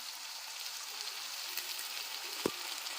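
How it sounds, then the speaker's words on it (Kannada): Brinjal and fresh green peas fry in hot oil, giving a steady, fine sizzling hiss throughout, with a single brief stir or clatter near the end. "ಇವೆರಡರಿಗೂ ಎಣ್ಣೆಯಲ್ಲೇ ಹುರ್ಕೋಬೇಕು ಚೆನ್ನಾಗಿ"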